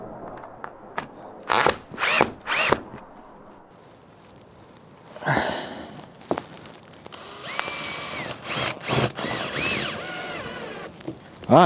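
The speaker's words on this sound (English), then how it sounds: "So I can just get the screws driven in." A power drill drives green decking screws into wall cladding in several short, loud whirring bursts, separated by quiet pauses and handling clicks.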